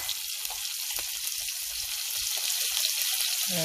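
Chopped onion with cumin frying in hot oil, a steady close sizzle that holds even and continuous with faint stirring taps underneath and no talk.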